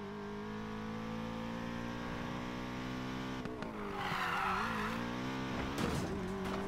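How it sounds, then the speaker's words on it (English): Car engine in Need for Speed Payback holding a steady, loud drone, then revving and shifting as the tires squeal briefly through a drift near the end. "I was trying to do the drifts, but it didn't really work."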